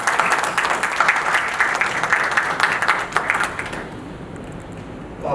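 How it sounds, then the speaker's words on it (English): An audience at a national coaching school event claps in a sustained round of applause as guests are invited to the front, the clapping thinning and fading out near the end. "Give a round of applause."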